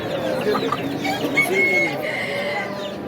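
Many chickens cluck and chirp together nearby at a poultry market, a busy, continuous chorus of poultry with a low murmur of voices beneath.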